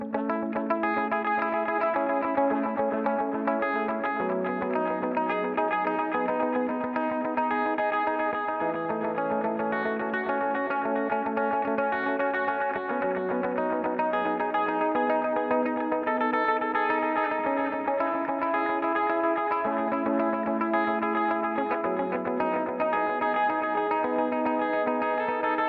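Electric guitar played through a Valeton GP200 multi-effects unit with a tempo-synced dotted-note delay, giving steady sustained chords and notes with repeating echoes and a faint chorused wash, even and loud throughout with no voice.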